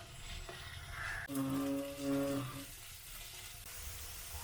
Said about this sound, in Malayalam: ചുവന്നുള്ളിയും ബാക്കി ചേരുവകളും ഒന്ന് നന്നായിട്ടൊന്ന് വഴറ്റി ഒരു ഗോൾഡൻ ബ്രൗൺ കളർ ആവുന്നത് വരെ നമുക്കൊന്ന് വെയിറ്റ് ചെയ്യാം